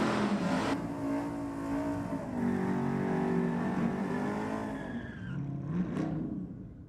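A Honda Civic EK drag car held on its two-step during a burnout at the dragstrip, engine droning loud and steady with wavering pitch, then dropping off and flaring again near the end.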